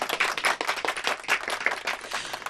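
A show audience breaks into brief, enthusiastic applause, dense clapping from a crowd that pulses slightly in intensity for a couple of seconds.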